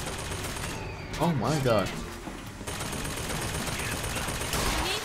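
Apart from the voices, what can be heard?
hand cannon revolver gunfire in video game Bioshock Infinite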